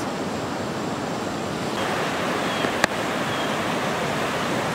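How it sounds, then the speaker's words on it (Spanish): Loud, constant roar of the Ixcán River in flood after Hurricane Eta, dense and unbroken close by, with one brief sharp click partway through. "Muy fuerte el río, ¿no?"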